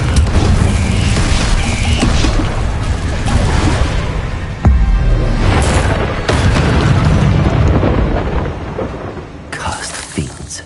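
Loud, continuous rumbling blasts from Confringo blasting spells in Hogwarts Legacy, with heavy booms and a sharp impact near the middle, filling the whole stretch like a thunderous barrage.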